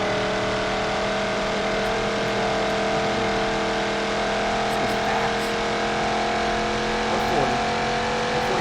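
A Plymouth Road Runner muscle car engine in the BeamNG.drive driving game holds a steady, loud drone at high speed, a constant tonal hum with faint talk underneath.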